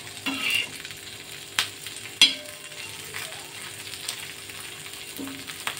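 Chopped onions being stirred and fried in a little oil for a Chinese-style prawn seekh kebab, with a gentle sizzle broken by a few sharp scrapes and knocks of the spoon against the pan.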